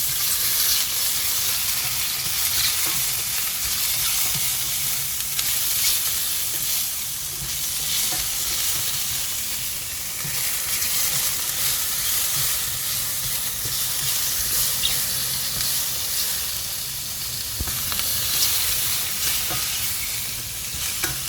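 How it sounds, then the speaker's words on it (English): Prawns and squid sauté in a pan for seafood risotto, a loud, steady hiss of sizzling with frequent stirring scrapes and clatter, close up and without speech. "You add in the prawns and the squid. Just saute them a little bit."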